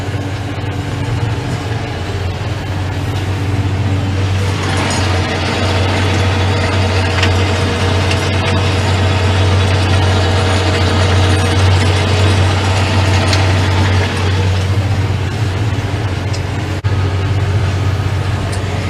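A tractor with a rotavator crawls slowly in first gear, breaking stubborn soil clods. A steady engine drone runs underneath continuous loud clattering, grinding and crunching from the tilling tool.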